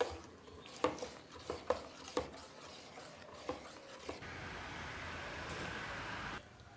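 Dosa batter mixed with rice is stirred in a bowl, a series of soft scraping strokes and light knocks against the vessel, followed by a steadier rushing wash of sound near the end.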